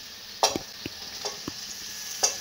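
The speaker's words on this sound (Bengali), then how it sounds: "মশলাটা একটু ভেজে এখন এঁচোড়টা দিয়ে দিচ্ছে" Young jackfruit, already boiled soft, is stirred into a pan of frying spice mix, with a low sizzle beneath a few sharp spoon scrapes and clanks spaced irregularly.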